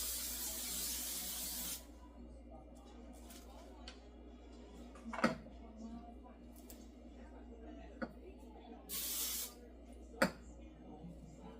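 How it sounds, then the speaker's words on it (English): Canola oil cooking spray hisses in a steady, close burst of about two seconds at the start and again briefly later, during sourdough bread preparation, with a few light clicks and knocks between. "I'm just gonna spray this down with this canola spray."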